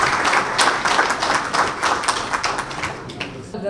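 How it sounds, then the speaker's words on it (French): Audience applause at a financing event in Senegal marking the launch of an investment magazine, dense steady clapping from a crowd throughout, fairly loud and continuous with no break. "un tonnerre d'applaudissements pour ce panel brillantissime"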